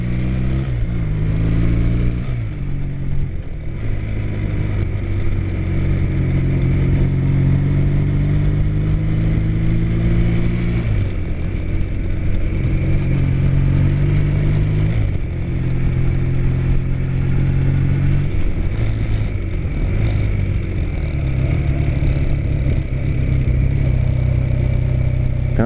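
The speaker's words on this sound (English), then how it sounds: "There goes another guy on a bike." A motorcycle on a campus road revs and runs steadily through the whole stretch, its engine note loud and close with rising and falling pitch as it accelerates and passes, no talk over it.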